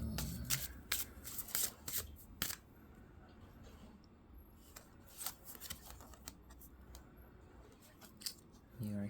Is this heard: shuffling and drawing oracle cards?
yes